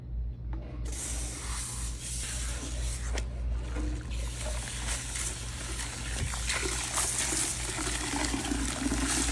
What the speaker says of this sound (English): we're going to use cool water to remove the conditioner